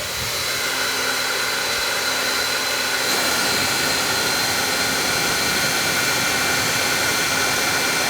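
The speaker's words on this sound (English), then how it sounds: "I'm going to hook up this hair dryer." A hair dryer running off an Aferiy P210 portable power station, a loud continuous airy whir with a steady motor hum that shifts slightly in tone partway through and otherwise holds constant throughout.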